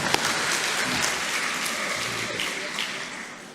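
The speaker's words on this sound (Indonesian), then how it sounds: "Tepuk tangan masuk." Applause from a congregation during a Sunday-midday church service, a steady dense wash of clapping that holds evenly for several seconds with no clear breaks.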